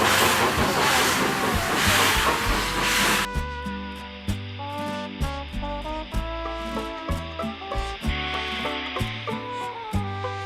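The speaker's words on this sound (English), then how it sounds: "White steam bursts around the steel wheels." A classic steam train engine releases a loud, broad burst of hissing steam for a few seconds, then the hiss cuts off and rhythmic mechanical chugging and tonal clanks carry on with music-like harmonics underneath.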